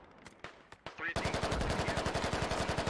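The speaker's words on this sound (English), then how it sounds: "There's a lot of shots at Flicker and his teammate" Rapid automatic gunfire in the video game Squad, a few scattered shots first, then a sustained loud burst of fast regular rounds that runs to the end.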